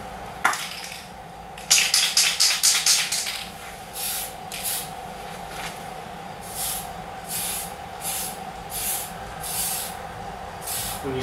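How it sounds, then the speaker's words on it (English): Aerosol spray paint hisses in a quick run of short bursts, then in longer evenly spaced passes, as an RC car body shell for a Pro-Line Baja Bug is coated, with no talk. "When you spray, you always be moving. Always moving when you spray."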